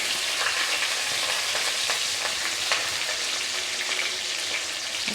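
Ginger, garlic and chili fry in a pan for a chicken curry, giving a steady, bright sizzle with a few faint clinks of stirring and no voices.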